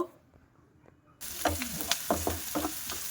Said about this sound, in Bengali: তেলটা গরম হয়ে গেছে, ওর মধ্যে দিয়ে দেব